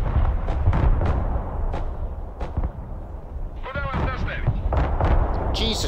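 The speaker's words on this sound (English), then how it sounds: "how much fucking artillery do they have?" Artillery fire in the strategy game Broken Arrow: a string of sharp booms and thuds, several in quick succession early on, then more blasts, with players talking over them.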